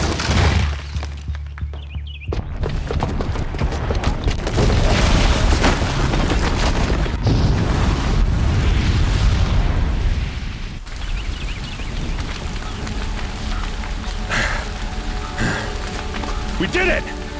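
A bomb goes off in Horizon Zero Dawn, giving a loud, sustained booming rumble with crackling debris that fills most of the clip. Voices speak over it.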